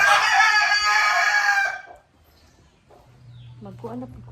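A rooster crows loudly and close in one long, drawn-out call, then fades into quiet yard ambience where a person starts speaking and soft chicken clucks can be heard.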